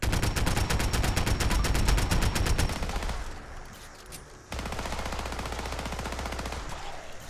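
Rapid automatic gunfire from the Colt SCAMP assault pistol in Fallout 4, a dense burst of evenly spaced shots, loud and close, that breaks off and then resumes as a steady rattle.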